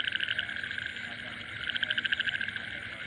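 A nighttime chorus of frogs croaks steadily and fairly close, with dense overlapping calls that swell louder toward the end; no voices.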